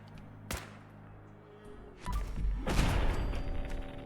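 Machine gun turret fire in the game Fallout 4, one sharp crack followed by a dense, loud burst of rapid gunfire and booms that keeps going to the end.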